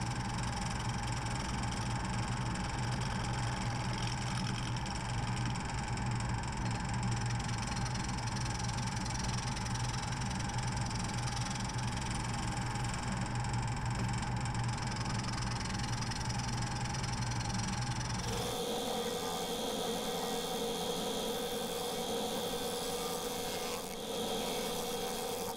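A wood lathe spins a yew bowl blank at about 1400 RPM, giving a steady, loud whirring drone with a constant hum throughout, shifting abruptly in tone partway through.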